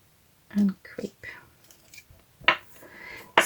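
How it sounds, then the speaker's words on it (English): Scissors make a few crisp snips through coffee-dyed paper, cutting it to passport size. The cuts are close and separate, with soft whispery sounds between them. "I'm going to cut a piece of coffee dyed paper to the size of the passport."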